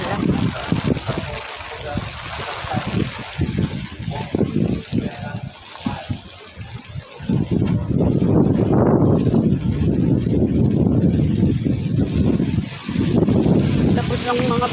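Typhoon wind in Taiwan roars and gusts in broad rushing waves, loud and close against the microphone, building to a sustained blast in the second half, with a person talking underneath at times.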